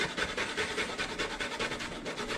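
Fresh ginger rubbed against a grater in quick, steady rasping strokes, close and fairly loud, with no talking.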